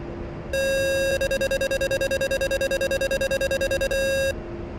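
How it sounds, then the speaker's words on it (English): A flight simulator game's electronic stall warning tone sounds steadily, then switches to a rapid interrupted beeping as the aircraft is pulled harder, pulsing for a few seconds before cutting off. "If you hear beep, and then if you pull harder, you hear an interrupted beep."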